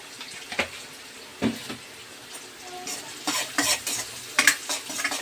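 Cabbage manchurian mixture being stirred and fried in a pan, with intermittent scraping and clinking of a spatula against the metal over a soft, steady sizzle, close and moderately loud.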